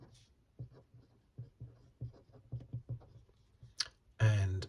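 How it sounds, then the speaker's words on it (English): Pen writing notes by hand on paper, a run of short scratchy strokes in quick irregular bursts, close and fairly quiet, with a louder scrape near the end. "So let's write that down."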